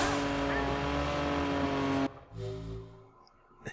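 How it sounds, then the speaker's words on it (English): In the video game Watch Dogs, a Lamborghini engine roars loud and steady, then cuts off abruptly and is followed by quieter low rumbling and a few faint sounds. "I got myself a Lamborghini."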